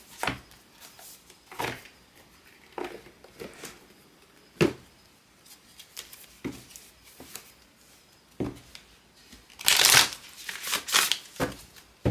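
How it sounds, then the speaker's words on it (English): Oracle cards are shuffled in short riffling bursts, separated by quiet pauses, with one longer, louder shuffle near the end. "Do one more oracle shuffle."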